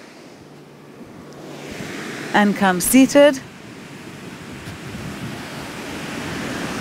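Ocean waves roll in as a soft, steady surf wash with light wind, continuing under and after a brief spoken instruction from a nearby voice.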